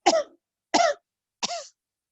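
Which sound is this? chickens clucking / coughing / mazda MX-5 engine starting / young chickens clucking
coughing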